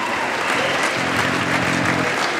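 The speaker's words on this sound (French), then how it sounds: "Applaudissements pour l'équipe du Brésil" An audience at an equestrian vaulting world championship in Le Mans claps in a full, steady wash for the Brazil team, with a faint voice murmuring beneath the applause.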